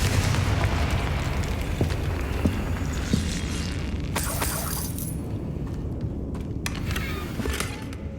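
Explosive spell blasts from the Hogwarts Legacy video game, a dense rumbling wash of booms and bursts with sharp crackling impacts, loud and continuous throughout, with no talk.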